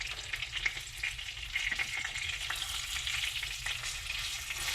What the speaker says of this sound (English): I just love the sound of that sizzle